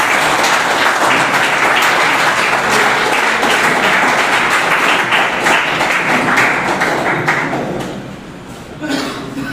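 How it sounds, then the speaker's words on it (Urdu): Audience at an Urdu poetry gathering breaks into loud, sustained applause welcoming a speaker, steady dense clapping that fades toward the end, with a thump near the close. "آپ سب بھرپور تالیوں میں استقبال کیجیے"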